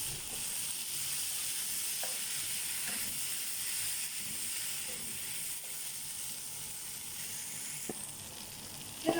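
Egg added to sausage noodles in a pan over a low flame, frying with a steady close sizzle and hiss, broken by a few faint utensil taps and a brief knock at the end.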